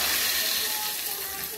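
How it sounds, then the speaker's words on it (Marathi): A hot spice tempering goes into a peanut chutney and gives a soft, steady hiss and sizzle. It sounds fairly quiet and close, and no one speaks. "आणि आता आपण हे फोडणी केलेलं फोडणी आपण याच्यामध्ये फोडून टाकून घ्यायची"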